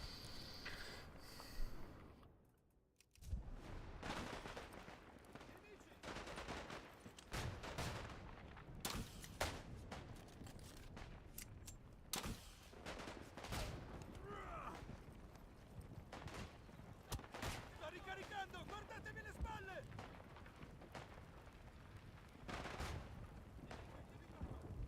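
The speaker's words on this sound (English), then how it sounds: "he got us in a machine gun," Mounted machine gun firing in a Vietnam War video game: repeated bursts of rattling gunfire, fairly quiet and mixed into busy game noise for the whole stretch.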